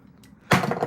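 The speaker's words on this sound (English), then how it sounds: "That's the sound of me dropping a part of this set." A LEGO Minecraft set piece, part of the Villager Raid set, drops onto a table with one sudden loud clatter. It comes right after a quiet stretch and rattles briefly as it settles.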